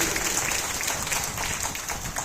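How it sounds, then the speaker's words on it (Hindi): A seated audience claps for a newcomer at a business meeting, a full, even burst of many hands applauding from start to finish, fairly loud and with no speech over it. "एक बार ताली बजाइए हमारे नए साथी के लिए"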